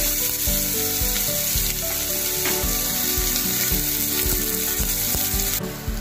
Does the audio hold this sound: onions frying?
yes